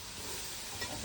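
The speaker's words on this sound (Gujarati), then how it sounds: "આ બાજુ આપણે ખીચડી વઘારાઈએ" Khichdi being tempered in a pan gives a steady, close sizzle and hiss with faint stirring, no voices over it.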